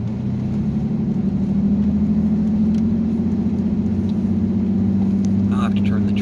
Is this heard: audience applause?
no